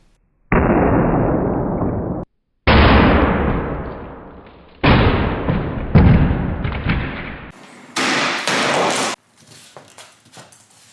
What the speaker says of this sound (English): First up for the Cinderblock drop test, the Dewalt ToughSystem.